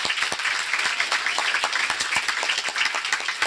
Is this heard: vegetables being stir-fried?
no